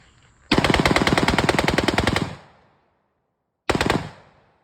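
An airsoft AR-15 pistol bump firing at a paper target from 32 feet: a rapid, loud burst of close mechanical shots lasting nearly two seconds, then silence and a shorter second burst.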